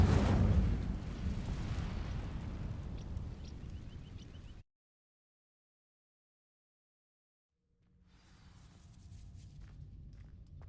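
Incendio fire spell cast in the video game Hogwarts Legacy on dry vines, a loud whooshing burst of flame that fades into a crackling rumble, cuts to silence, then returns as a low sustained roar.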